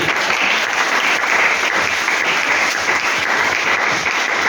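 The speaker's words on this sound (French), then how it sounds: "Est-ce que tu peux acclamer pour la gloire de Dieu?" A church congregation at a Sunday service in Mongo Mpoukou breaks into dense, steady applause with cheering, loud and sustained throughout.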